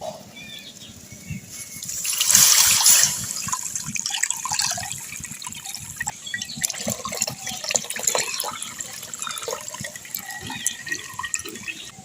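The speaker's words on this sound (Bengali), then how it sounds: "এবার আমি দুধটা ছেঁকে নেব।" Milk being strained into a kadai holding a little water while making mishti doi, heard as a steady, close liquid pour and trickle that swells early and then settles into continuous running and dripping.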